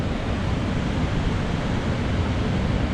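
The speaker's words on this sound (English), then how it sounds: "So you can see we've got a bit of water flowing." Water flows steadily in a river in the Elan Valley, Wales, at golden hour: a close, even rushing wash with no pauses and no voices.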